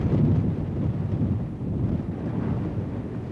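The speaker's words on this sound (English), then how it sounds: "one of the windiest places in the United States" Strong wind buffets a microphone on an exposed windy hill, a loud, continuous low roar that surges and eases without pause, with no voices.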